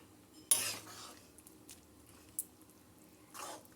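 A spoon scrapes and clinks in a pot of ridge gourd curry in a few short bursts, with soft wet squishes between strokes.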